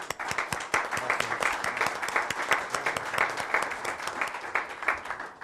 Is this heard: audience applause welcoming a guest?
yes